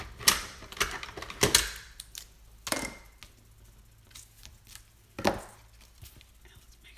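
Ribbon being trimmed for a watercolor card, several sharp crisp snips close by, scattered irregularly with quiet gaps between them.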